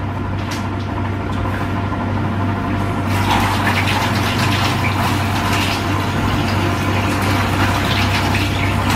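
Water runs steadily from a home tap while hands are washed, a continuous gushing splash over a low mechanical hum, with the flow getting a little louder and more broken partway through.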